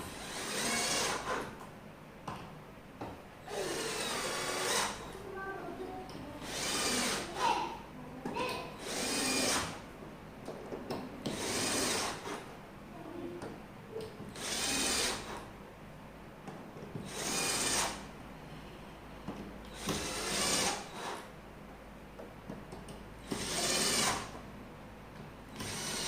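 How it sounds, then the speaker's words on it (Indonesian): Children's wooden bookshelf being assembled as screws are driven into pre-made holes with a screwdriver. Repeated bursts of whirring and grinding come in a steady rhythm, separated by short pauses, loud and close. "pakai obeng untuk masukin skrup ke lubang sampai selesai"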